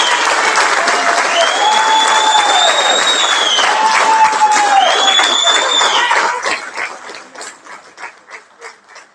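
An audience at a school board meeting applauds steadily and loudly, with voices calling out over the clapping, which then thins into a few fading claps.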